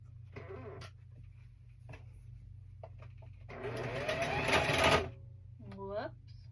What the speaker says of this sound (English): Alright, and over to the sewing machine.